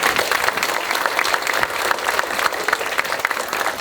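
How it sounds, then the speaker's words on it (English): Lecture audience applauding a speaker at a local history talk, a steady round of clapping that stays dense and even across the clip. "let's give a round of applause for Jeanie"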